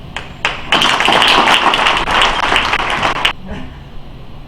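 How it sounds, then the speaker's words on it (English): A crowd claps for a group at a celebration of the Sanctuary for Senior Dogs' 15 years, a loud burst of applause lasting about three seconds before it cuts off and the room goes quiet. "I'd just like to have another round of applause for this group"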